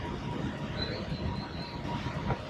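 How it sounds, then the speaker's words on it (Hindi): A metro train passing in Kuala Lumpur, Malaysia, gives a steady mid-level rumble and rolling rail noise, with a faint high squeal briefly rising over it. "ये देखिए दूसरी मेट्रो है।"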